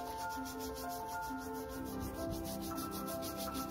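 A conch shell is scrubbed by hand with lime and Colgate toothpaste, making a close, faint, rhythmic rubbing and scraping that repeats in quick strokes.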